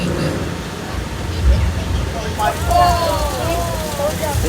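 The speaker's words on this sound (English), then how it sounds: "Got a full-on rainstorm happening in Old Mexico now." Artificial rain from sprinklers pours onto an Old Mexico street set at a Hollywood studio tour, a steady broad hiss of falling water with low rumble underneath and a voice talking over the latter half.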